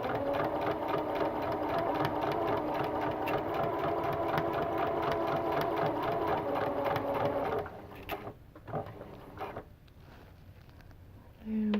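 A sewing machine stitches hexagon Y seams in a steady rapid run for several seconds, then stops, followed by a few short clicks and handling knocks, with no talking.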